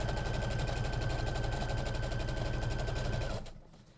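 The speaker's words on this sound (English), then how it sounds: "if you pull it or push it, your machine's going to skip stitches" A sewing machine stitches a tote bag in a fast, even mechanical rattle at close range, running steadily for about three seconds before stopping abruptly.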